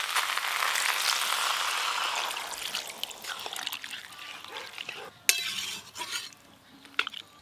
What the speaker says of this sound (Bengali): এই যে এবার জল দিয়ে একটু ভালো করে ফুটিয়ে নেব।